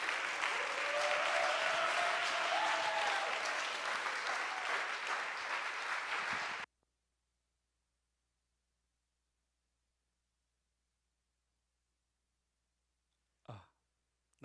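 A youth church congregation at a Sunday service claps to welcome a pastor: loud, sustained applause from the crowd lasts several seconds, then stops abruptly into silence, with one short thump near the end.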